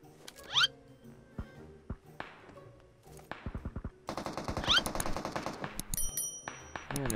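Rapid automatic gunfire bursts from a mobile battle-royale style shooter, loud and close, with sharp repeated shots clustering in dense volleys, especially in the second half, alongside game effects and no talk.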